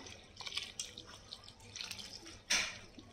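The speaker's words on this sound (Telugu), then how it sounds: "ఇట్లా వేడి నీళ్ళు పోసుకోవాలి." Hot water is poured onto separated grape skins, a soft, close splashing trickle that ends with a brief louder gush near the end.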